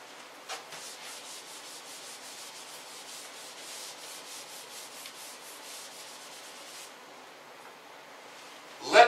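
An eraser rubs steadily back and forth across a board, a soft continuous rhythmic swishing that runs for several seconds and ends with a brief louder knock.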